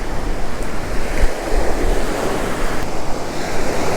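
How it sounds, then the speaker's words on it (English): Ocean waves breaking on a beach near low tide during surf fishing, a loud, steady wash of surf close by with wind buffeting the microphone, no speech. "we got some, great wave action and all"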